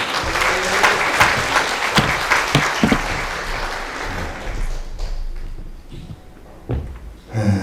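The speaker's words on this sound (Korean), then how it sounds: "박수를 맞이하겠습니다." Applause from a congregation at a Korean church prayer meeting marking the March 1st Independence Movement anniversary, a dense burst of clapping that swells then thins out and fades, with a few scattered claps and knocks near the end.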